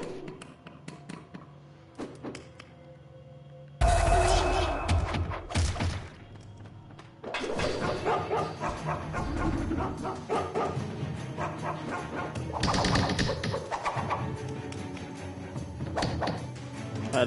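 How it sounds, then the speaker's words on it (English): Dogs bark in the stealth game Mark of the Ninja Remastered, with sharp repeated barks and yips over thuds and thumps that turn busy and loud after a sudden jump in level, continuing through the rest. "Steer clear of the dogs. They can sniff you out even in the dark darkness."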